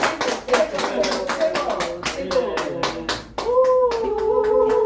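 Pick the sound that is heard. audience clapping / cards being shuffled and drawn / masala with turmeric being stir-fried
audience clapping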